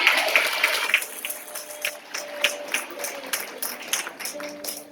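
Congregation applauding at a Christmas service in a church prayer house, a steady patter of clapping hands that rises and falls over about five seconds, moderately loud and mixed with a faint room murmur.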